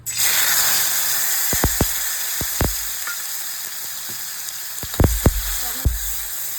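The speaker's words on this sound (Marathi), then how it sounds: "तेल आता आपलं तापलं आहे, त्यामध्ये मी टोमॅटो घालून घेते" Tomatoes frying in a spoonful of hot oil in a kadhai give a loud, steady sizzle throughout, broken by sharp scraping and clinking taps of a stirring spoon, with no talking.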